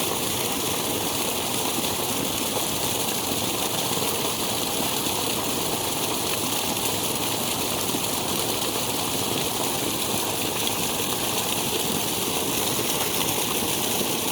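Water gushes steadily from a tube well in Sabah, Malaysia, a constant, even rushing wash with no pauses and no voices.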